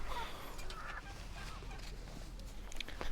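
Chickens on a farm cluck softly and intermittently in the background as they gather near a person fetching water, the calls faint and scattered.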